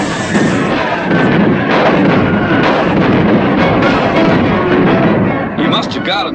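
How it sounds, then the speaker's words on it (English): Repeated booming cannon blasts from a ship ring out in quick succession in a cartoon, loud and dense, with a busy cartoonish clatter filling the whole stretch. "I'll get them with the cannon."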